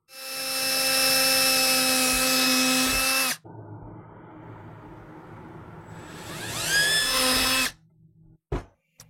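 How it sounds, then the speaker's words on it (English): A power drill whines loudly for a few seconds while drilling a grommet hole, pauses to a lower rumble, then spins up again in a second burst before stopping with a couple of clicks. "we're going to go ahead and drill a hole for this grommet"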